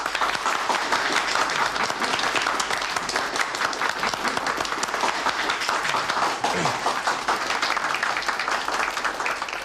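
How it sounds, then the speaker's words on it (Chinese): A roomful of people at a meeting with a flight-test team's technical group breaks into sustained, vigorous applause, a thick and even patter of many hands lasting several seconds with no talking. "鼓掌。"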